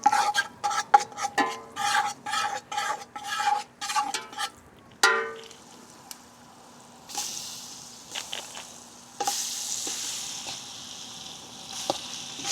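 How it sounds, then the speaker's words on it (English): Curry goat stirred in a pot outdoors, a fast rhythmic series of loud, close scraping strokes that slows and thins into scattered scrapes and clatter over a low background hum. "Stir it up a little bit, you know. Because we are burning the curry"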